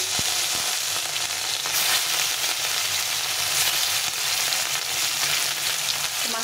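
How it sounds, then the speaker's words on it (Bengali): Fish pieces fry in hot mustard oil, a steady, loud sizzling hiss that holds evenly throughout with no talk. "মাছগুলো একটু ভেজে নেব।"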